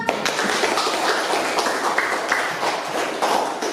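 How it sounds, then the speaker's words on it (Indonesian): Students clapping hands together in a classroom, a brisk group round of claps with dense overlapping hits lasting several seconds, fairly close and loud. "Tepuk tangan dong."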